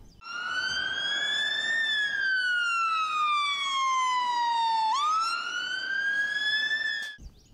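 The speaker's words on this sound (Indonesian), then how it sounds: "Mobil pemadam kebakaran." A fire truck siren wails with a slow rising and falling electronic tone, loud and continuous, from a toy, then cuts off abruptly.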